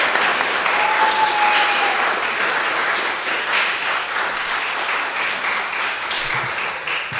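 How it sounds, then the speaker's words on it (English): An audience at the Northminster Follies II variety show claps for the performers, a dense, sustained wash of applause that stays loud and even throughout, with no speech on top. "give another round of applause"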